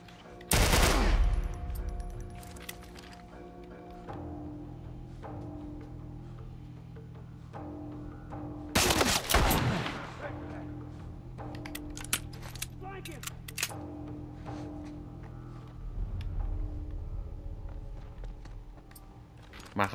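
Gunfire in The Last of Us Part I video game: bursts of rapid shots at the start and again midway, followed by scattered clinks and thuds, with a voice talking over the game sounds.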